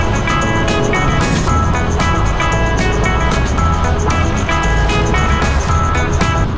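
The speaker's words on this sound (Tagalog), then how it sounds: "maging yung tunog ng kanyang makina ay super smooth." A Yamaha Sniper 155R scooter-style motorcycle engine hums steadily at close range while riding, a smooth constant droning tone with road rumble and no talking.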